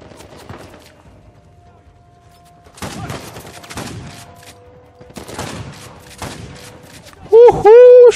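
Shotgun blasts from the video game Uncharted 4 go off amid jungle combat, several loud bursts spaced a couple of seconds apart, with a sharp electronic tone near the end.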